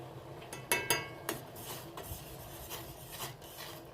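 A spoon stirs sugar into rose tea in a cup, giving scattered clinks and light scraping against the sides, close and fairly quiet, with no talking.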